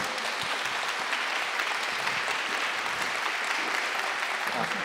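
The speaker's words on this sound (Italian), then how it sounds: "L'allestimento è pronto, facciamo un applauso" An audience at a comics festival showcase applauds the manga artist Inio Asano, a dense sustained wash of clapping from many hands that holds steady throughout without voices.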